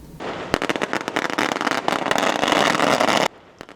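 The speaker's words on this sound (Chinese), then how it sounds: "港内鞭炮声迎接" Firecrackers set off at Waimushan fishing harbor in Keelung to welcome a Wangye deity's boat procession, a dense, loud, rapid crackle of bangs lasting about three seconds before cutting off abruptly.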